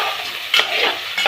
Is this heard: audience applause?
no